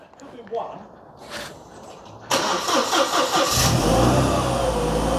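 A 2CV-based Falcon S kit car, abandoned for 23 years, cranks and catches, then settles into a loud, uneven, rough-running idle that is missing on a cylinder, with a voice speaking before it fires.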